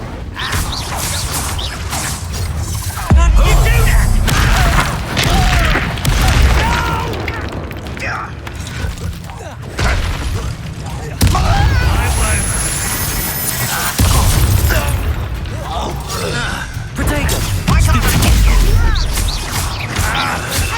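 Spell combat in the Hogwarts Legacy video game, with Confringo and Incendio blasts: loud, repeated booming explosions and crashing impacts pound continuously, with shouted voices over the fighting.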